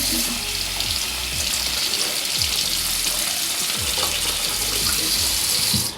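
Running water rinses the removable part of a NOOA 3-in-1 nose hair trimmer, making a steady, loud, close hiss that runs unbroken for about six seconds with no voices.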